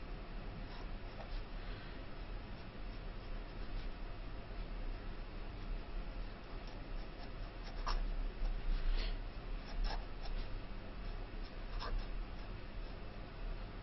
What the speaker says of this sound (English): it is possible to write quite fast and legibly